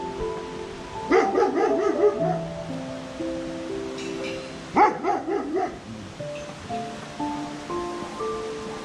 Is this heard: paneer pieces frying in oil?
no